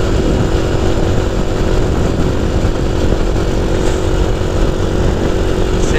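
A Honda Cub motorcycle being ridden at night along small country lanes, its engine a loud, steady, close droning hum that never lets up.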